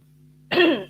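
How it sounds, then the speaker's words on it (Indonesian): One short, rough cough or throat clear breaks a quiet room hum. "Maaf ya, Ibu agak batuk-batuk nih."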